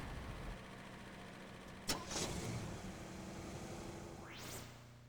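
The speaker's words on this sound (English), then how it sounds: "Then start your engine and allow it to run for a few minutes." A car engine starts with a brief crank and then settles into a quiet, steady idle at a distance, after a jump start from a booster vehicle during an emergency roadside procedure.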